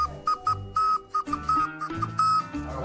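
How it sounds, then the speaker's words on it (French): Shrill whistles blown in a rapid series of short and longer blasts, loud and close, overlapping one another like a noisy party. "On a tous eu un sifflet."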